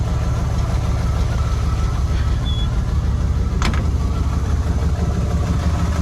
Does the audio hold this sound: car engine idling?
yes